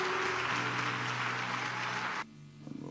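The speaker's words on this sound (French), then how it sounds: "Clap for the word of God." A church congregation breaks into loud, sustained applause and cheering for the word of God during a sermon, then the clapping cuts off abruptly and leaves a quiet room.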